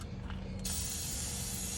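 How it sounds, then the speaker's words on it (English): Fluid Film aerosol sprayed onto the bolts and fasteners under a Canadian-built Hummer H2 during a brake system rebuild, a steady close hiss that starts and continues without pause. "taking it, spraying it on all the stuff that is bolts, fasteners, things like that"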